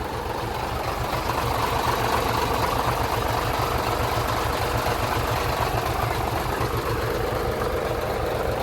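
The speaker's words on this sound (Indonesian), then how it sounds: "Mesinnya masih nyaring, masih enak." A 2011 Hino FM 320 6x4 truck's diesel engine idles with a steady, loud, even low rumble and fast regular chugging throughout, with no talk over it.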